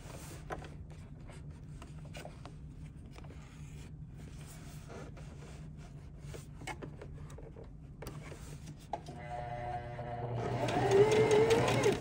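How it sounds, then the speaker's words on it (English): A sewing machine runs a zigzag stitch along the seam edges of a Sylveon cosplay costume skirt, a faint low mechanical hum with scattered clicks that swells into a louder whirring whine at the end. "we're gonna do a little zigzag stitch off the edge so our seams look nice"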